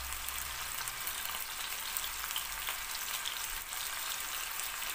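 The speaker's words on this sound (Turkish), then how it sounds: "üzerine hazırlanan sos dökülür ve isteğe bağlı olarak kızdırmış tereyağı" Hot browned butter is poured over a prepared, sauced dish, producing a steady, fairly soft crackling sizzle that stays even from start to finish.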